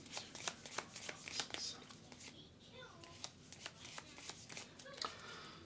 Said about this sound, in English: All players simultaneous draw 3 cards